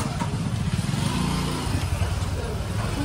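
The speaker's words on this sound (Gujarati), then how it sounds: "રામ ભરોસે ભાભીની પાછળ એક્ટિવા ઉપર બેસી ગયા છીએ" Honda Activa scooter ride through a Gujarati village, the motor's low steady drone and road rumble continuous and fairly close, with voices faint beneath.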